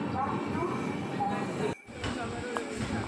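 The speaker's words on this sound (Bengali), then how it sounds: "চলে এসেছি সকাল সকাল রানীগঞ্জ স্টেশন, ট্রেন ধরবো। আমাদের ট্রেন চলে এসছে" A train at Raniganj station in the early morning. Close rail rumble and wheel noise fill the clip, cut by a brief sharp dropout, then continue with some clanking, with a voice talking over part of it.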